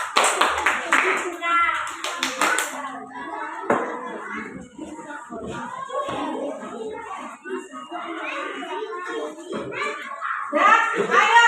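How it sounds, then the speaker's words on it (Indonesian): Classroom clapping for a student group, a brief burst of many hands near the start, then children's chatter and voices filling the rest of the room. "Tepuk tangan untuk kelompok anggur."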